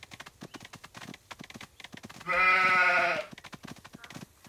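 A cartoon sheep from a Paw Patrol round-up game gives one loud, sustained bleat lasting about a second, with light rhythmic clip-clop hoof taps before and after it.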